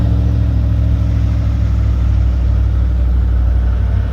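A 2022 Chevy Tahoe with the 6.2 liter V8 and quad exhaust runs close and loud, a steady deep idle rumble with no voices over it.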